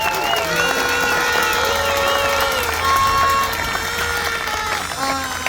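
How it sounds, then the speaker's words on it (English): Crowd at a small-town high school football parade and rally clapping and cheering steadily, dense and loud throughout, with whistles and shouts rising above the mass of applause. "Each and every one of you need a round of applause as fans, family members, cheerleaders."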